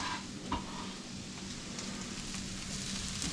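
Onions and ground ginger sauté in a pan with a steady sizzle and frying hiss that runs throughout. A soft stir or clink sounds near the start. The cooking is close and continuous, with no talking.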